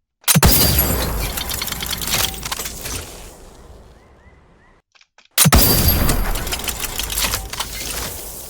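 Crisp, crackling bursts of an ice gun blast from the video game The Outer Worlds 2, with icy shattering texture, a fading resonant tail, a brief gap, then another loud shot.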